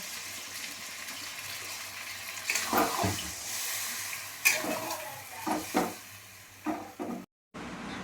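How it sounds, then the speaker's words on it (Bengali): Water is poured into a pan of sizzling spiced potato curry, giving a steady sizzle with stirring clatter and a few louder splashing bursts midway, then a sudden cut to silence near the end. "আমি এবারে কী করবো, জল দিয়ে দেবো, বেশি দেবো না, একটু কষা কষা করবো।"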